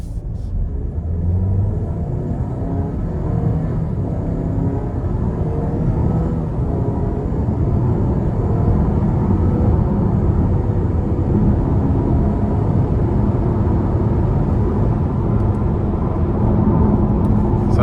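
Steady in-cabin rumble of a 2026 Buick Envision ST AWD SUV with a 2-liter turbo and 9-speed accelerating hard, a loud continuous low engine and road drone that holds throughout with no talking.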